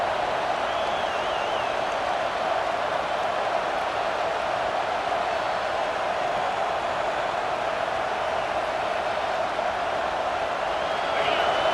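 Stadium crowd noise in EA Sports College Football 26, a steady, broad wash of fans in a tough road environment, constant and moderately loud with faint whistle-like tones, no clear bursts of cheering.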